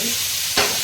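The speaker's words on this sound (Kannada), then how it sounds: "ಫ್ರೈ ಮಾಡ್ಕೊಳ್ತಾ ಇದ್ದೀನಿ" Onion frying in oil for egg curry gives a soft, continuous sizzle, with one brief louder stir or scrape near the end.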